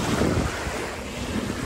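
Strong wind buffets the microphone with a constant roaring rush, mixed with the wash of surf nearby on a beach in Tahiti or Bora Bora.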